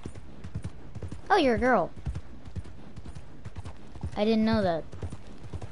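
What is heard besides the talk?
horse hooves clip-clopping in a video game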